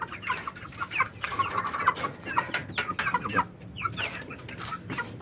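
Asil-cross native crossbreed chickens cluck and murmur nearby after feeding, a busy overlapping flock chatter with brief louder calls and no voices over them.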